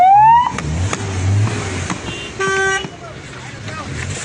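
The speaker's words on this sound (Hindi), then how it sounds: "ये देखो कितनी गाड़ियां हैं," Busy road traffic with many cars, with a short car horn toot near the start and more tonal honks later, heard under steady engine hum while someone talks over the scene.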